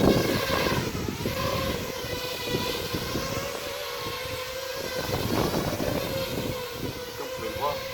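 A small drone flies in darkness, giving off a continuous close buzzing whine with a steady tone while someone talks over it.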